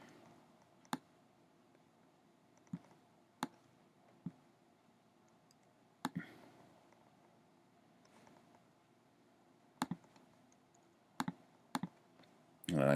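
A computer mouse clicks close by in a quiet room. Sharp, isolated clicks are scattered irregularly, some landing as quick double clicks, with no talk.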